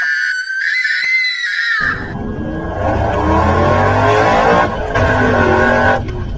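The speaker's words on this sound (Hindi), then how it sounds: "फिर सोन झट से गाड़ी निकालता है और सारे लोग गाड़ी में बैठकर वहाँ से ग्रैनी ग्रैंडपा घर जाने के लिए निकल जाते हैं" A cartoon car pulls away after a high shrill tone, its engine rumbling and roaring steadily and loud for several seconds with no talk over it.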